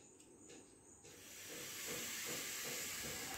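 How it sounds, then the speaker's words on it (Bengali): Steam from water heated in a pot under a steel vessel for steaming rui fish hisses steadily, rising and thickening after the first second, a soft close wash of noise with no talk. "দেখুন একটা ভাপ উঠেছে"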